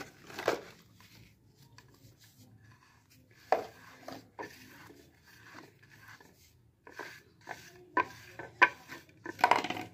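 Spice masala stirred and mixed in a bowl, with intermittent scraping and clinking bursts separated by short quiet gaps, fairly close and soft.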